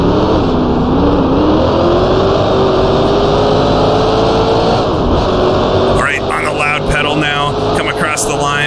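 Racing car engine in the Grand Prix Legends sim, accelerating out of the Oak Tree corner at VIR. A loud, close, continuous buzzing drone rises steadily in pitch and then shifts to a rougher, warbling tone near the end.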